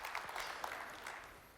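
Audience applause at a tech conference keynote, Percona Live 2016, a broad crackling wash of clapping that stays steady and fairly loud for the whole moment with no voices over it.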